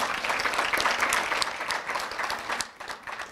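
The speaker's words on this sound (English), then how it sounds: "I'm going to ask for another warm round of applause for Professor Crouch." An audience at a lecture in Kimberley applauds Professor Crouch, with dense steady clapping from a crowd that tapers slightly toward the end.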